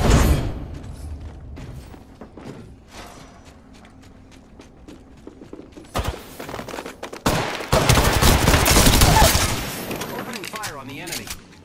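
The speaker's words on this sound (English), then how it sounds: "Opening fire on the enemy." Gunfire in a video game breaks out after a quieter stretch of clicks and scattered sounds: loud, dense volleys of shots crackle for several seconds, then ease off toward the end.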